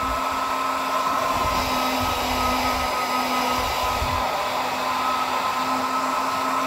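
ARCTIC computer fan spinning at 16,000 RPM, a loud, steady whooshing roar with a sustained high whine, constant throughout with no talk.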